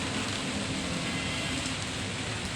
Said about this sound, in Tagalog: Bababa na tayo kasi umuulan.